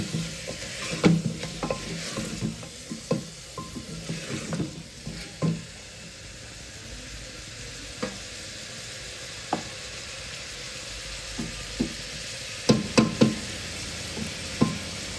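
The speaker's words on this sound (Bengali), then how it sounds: "নুনটা দিয়ে একটু নাড়াচাড়া করে নেব।" Meat with salt is stirred in a hot pan, with irregular scraping and clattering strokes over a continuous sizzle, close and moderately loud, with no voices.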